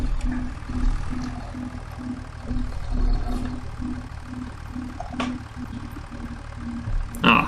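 Farming video game tractor engine idling, a steady low rhythmic throb with regular pulses, continuous and fairly loud, with no speech over it.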